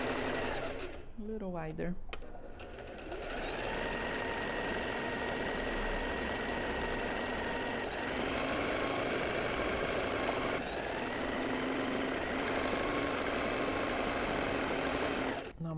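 Sewing machine stitching a narrow zigzag during freehand embroidery on dark fabric held in a hoop, a steady close whirring hum running throughout with brief speech at the start.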